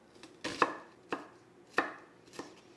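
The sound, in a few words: knife thinly slicing an onion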